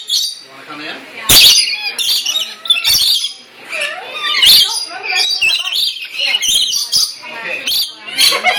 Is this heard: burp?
no